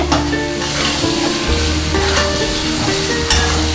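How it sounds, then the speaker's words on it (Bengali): Potatoes with cumin paste stirred while frying in oil: a constant loud sizzle with repeated scraping strokes of a spoon across the pan, close up and without talk. "দিয়ে ভালো করে নাড়াচাড়া করবো নাড়তে নাড়তে কাঁচা গন্ধটা যখন দেখবো চলে গেছে"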